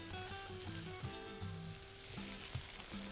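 Chicken changezi masala, an Old Delhi style spicy chicken curry, frying on a tawa with a steady, continuous close sizzle and faint stirring scrapes, no voices.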